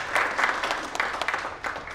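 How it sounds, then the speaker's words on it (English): Audience applause at a corporate event held in a Park Hyatt hotel, a steady patter of many hands clapping at moderate volume with no talking over it. "May I request Ms. Sampath Rani to please come over here with a round of applause"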